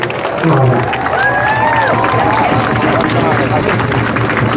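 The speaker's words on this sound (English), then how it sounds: "let's have another round of applause for Autumn" Protest crowd at a rally in Harrisburg, Pennsylvania applauding for Autumn, a dense sustained roar of clapping and cheering outdoors, with scattered voices and shouts mixed in throughout.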